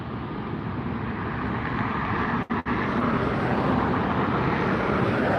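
A superjumbo jet airliner at Los Angeles Airport gives a steady, loud engine roar. The roar holds throughout except for a brief dropout midway.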